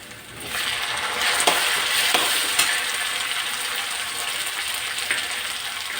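Chopped tomato pieces fry in a pan of semiya (vermicelli) upma, giving a steady, close sizzle with a few faint stirring clicks throughout and no talk.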